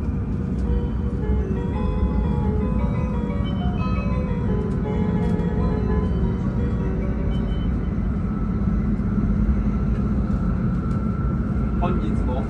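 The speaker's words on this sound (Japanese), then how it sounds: "6時37分定刻通り大宮駅を出発です。" Tohoku Shinkansen train departing Omiya Station on the day full-line service resumed: a steady low rumble and rising whine of the train from on board, continuous throughout, with faint chimes and announcements in the background.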